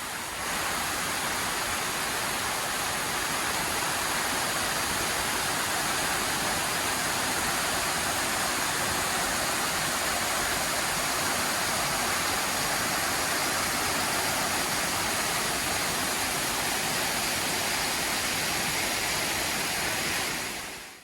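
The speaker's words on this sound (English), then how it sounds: "let's find these waterfalls" Waterfall on the Appalachian Trail, a steady roaring rush of falling water, loud and unbroken throughout.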